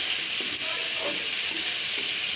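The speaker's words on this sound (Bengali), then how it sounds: "রসুনটা তেজপাতাটা দিয়ে দিলাম একসাথে ভালো করে ভেজে নেবে" Garlic and bay leaf sizzle steadily in hot oil in a pan, a continuous bright frying hiss with a few soft stirring scrapes, close and without speech.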